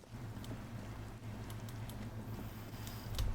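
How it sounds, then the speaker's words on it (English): Steady rain pours over the city of Revachol in the video game Disco Elysium, a soft continuous patter with scattered drips and occasional taps, mixed with low ambient hum and no talk. "All around you, rain falls on the great city of Revachol."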